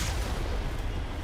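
A heavy cannon fires in Mass Effect: Legendary Edition, a loud, dense blast of booming rumble that fills the whole short moment with no pause or talk.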